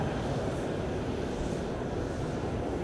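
A Jetstar Japan jet airliner at Fukuoka Airport gives off a steady, broad engine roar that holds at an even level throughout, with no break in the drone.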